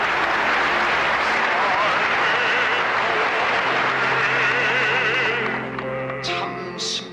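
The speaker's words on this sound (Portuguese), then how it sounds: "o saguão se enche de um caloroso aplauso" Warm applause fills a hall as religious leaders welcome Reverend and Mrs. Moon, a dense, sustained clapping that fades toward the end while a voice speaks over it.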